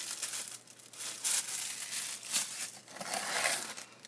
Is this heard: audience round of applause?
no